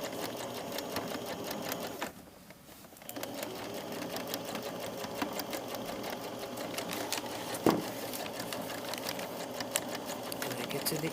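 A sewing machine stitching down a skirt waistband runs in a continuous rapid, rhythmic whir, pausing briefly around two seconds before resuming, fairly quiet and close, with faint talk underneath.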